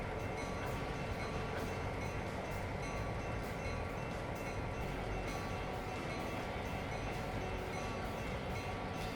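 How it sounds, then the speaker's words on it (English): Train brakes in a train simulator game give a constant, dense mechanical rumble with a high screeching edge over rolling rail noise, loud and unbroken the whole time. "I just put it on a little tiny bit and they're screeching."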